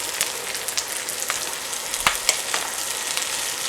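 Shaved Brussels sprouts fry with browning garlic in a pan, a steady close sizzle and crackle with occasional stirring scrapes.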